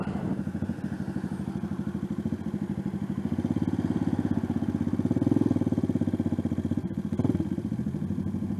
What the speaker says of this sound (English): Main reason I want to make this video is so you can hear the exhaust.